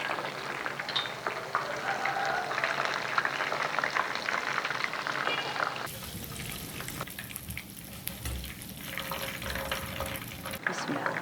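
Chicken pieces sizzle in hot oil with a steady crackling hiss, close and moderately loud throughout, with occasional stirring or utensil movement.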